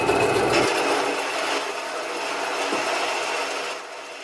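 A steel railroad spike being cut off near the tip, a steady abrasive grinding rasp that runs continuously and fairly loud, easing slightly toward the end, with no talk.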